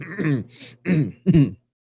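A man clears his throat in three short, gruff bursts close to the mic, each rougher than the last, then falls silent.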